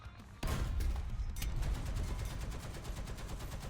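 Heavy tank gunfire in the video game War Thunder erupts with a sudden loud blast, followed by continuous rumbling bursts and rapid repeated shots, dense and booming, with no speech.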